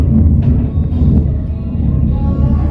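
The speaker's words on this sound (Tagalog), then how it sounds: "Lakas ng kulog!" Loud, deep thunder rolls on steadily for a few seconds, its low rumble heavy enough to make a window vibrate, with no voices over it.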